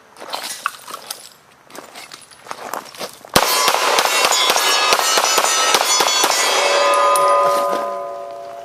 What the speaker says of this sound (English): Let's see if we can get some shots off fast here.